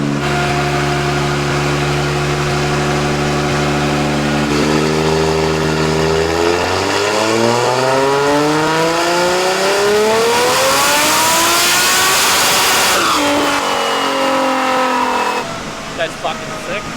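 A loud, rough-idling tuned Ford Focus engine revs up sharply with a climbing pitch, holds high, then drops back toward a choppy, lumpy idle.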